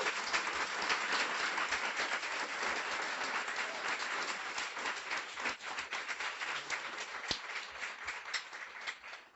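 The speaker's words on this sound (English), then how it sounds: "Let's give them a round of applause." Applause for a room of twelve graduates at a guide dog school graduation ceremony, a steady wash of many hands clapping at moderate level that carries on evenly throughout.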